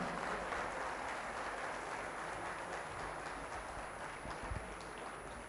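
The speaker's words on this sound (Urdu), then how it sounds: "بہت ساری تالیوں میں جناب انور مقصود صاحب" Sustained audience applause at the opening ceremony of the 15th Aalmi Urdu Conference at the Arts Council of Pakistan, welcoming Anwar Maqsood; steady dense clapping throughout, fairly soft and even with no talk over it.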